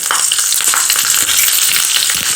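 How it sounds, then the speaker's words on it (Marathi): Green chili and cumin sizzling in a spoonful of hot oil in a pan for a tadka, a loud, close, steady crackling fry with no talk. "पॅनमध्ये चमचाभर तेल गरम करून घ्यायचं यामध्ये सुरुवातीला हिरवी मिरची घालूयात जिरं घालूयात"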